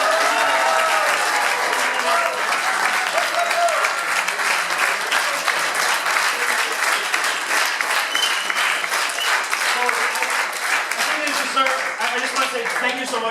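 Sustained applause for the mentors at a Startup Weekend event in Riga, a thick, steady round of clapping from a large room that continues for over ten seconds, with voices and cheers mixed in beneath.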